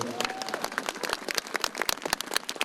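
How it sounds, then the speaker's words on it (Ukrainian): A crowd on Angels Square in Lviv gives an ovation for the defenders of Ukraine's borders, many sharp individual claps forming an uneven, fairly close round of applause. "Я хочу, щоб ви зараз дали максимальні оплески для тих всіх хлопців і дівчат, які боронять кордони нашої держави"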